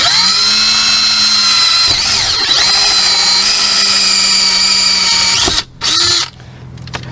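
A power drill whines steadily and loudly as it bores a hole in a car to fit a 12V power socket, the motor pitch wavering slightly before stopping briefly and restarting near the end.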